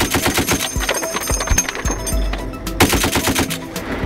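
An M2 .50 caliber machine gun on an M2A1 mount fires full auto, a rapid, loud, steady stream of heavy booming shots with a short pause before another burst.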